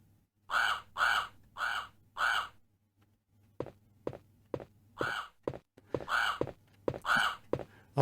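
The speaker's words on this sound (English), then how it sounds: "I believe if you run in this room, the crows all get pissed off." In the Sega Saturn version of Resident Evil, crows caw loudly in repeated harsh calls, four in a row and then more later, with soft footsteps and thunks in between.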